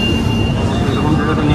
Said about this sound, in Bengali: এটা ক্রস করছে ভারত গৌরব ট্রেন